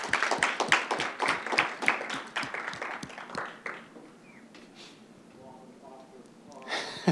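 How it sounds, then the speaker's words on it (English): A live audience claps for speakers at a Node+JS Interactive event, a loud burst of applause lasting about three seconds that quickly fades. Quieter room sound and a few faint voices follow. "Let's give them a round of applause."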